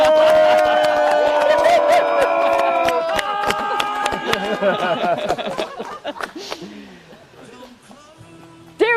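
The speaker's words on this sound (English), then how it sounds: "we're going to clap and cheer and raise the roof" Wedding guests cheer and clap loudly as a crowd while music plays, with whoops and laughter over a steady party din that thins out toward the end.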